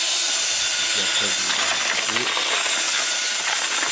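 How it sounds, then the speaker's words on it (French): Electric paddle mixer churning ready-mixed PRB mortar, a loud continuous motor whine and gritty churning hiss held steady throughout, close up. "ensuite je prends le malaxeur"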